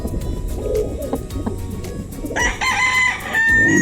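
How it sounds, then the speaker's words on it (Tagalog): Gamefowl roosters, including yellow-legged hatch and sweater birds, crow loudly in a farm yard, with one strong crow rising over background clucking and fowl calls. "Madami ng manok na nakatulos."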